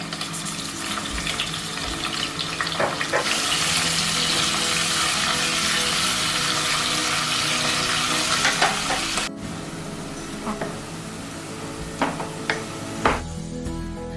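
Two medium-sized onions with salt frying in a pan, a loud steady sizzle with stirring scrapes and a few clinks, the hiss easing partway through.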